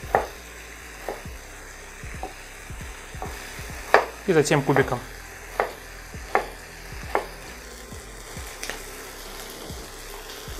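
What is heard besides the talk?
carrots, onion and sausages frying in pan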